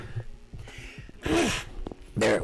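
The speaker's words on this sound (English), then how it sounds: "I gotta sneeze again." A person sneezes twice, each a sharp close burst, with gasping breaths and small throat sounds in between.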